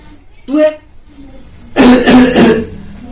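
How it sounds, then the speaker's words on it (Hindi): Two short, close, loud bursts of coughing, a brief single cough followed by a longer rough fit of three quick coughs, with a faint voice in the background between them. "2-3 से खांसी हो गया."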